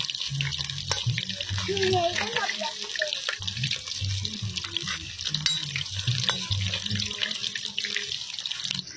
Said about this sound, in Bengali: এটা হালকা ভেজে নিতে হবে।